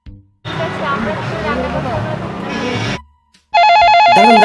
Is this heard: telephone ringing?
yes